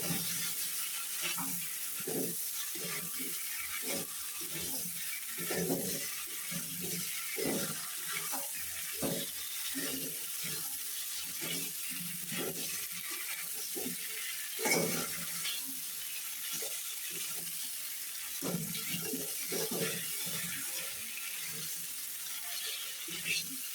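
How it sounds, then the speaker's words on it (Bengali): Fried cauliflower and potatoes sautéed with ginger-onion spice paste for an egg curry, a low sizzle under repeated rhythmic scraping stirs of a spatula, close and steady, with occasional talk. "মশলার সাথে এই আলু আর কপিটাও একটু কষিয়ে নেব।"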